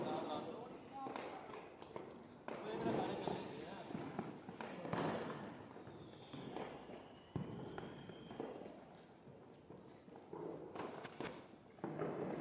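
Several sharp firecracker bangs go off at intervals during Diwali, near and loud, amid people talking and moving about.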